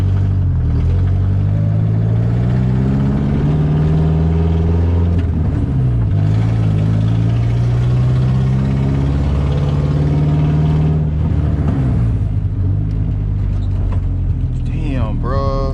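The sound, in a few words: car engine making an unusual sound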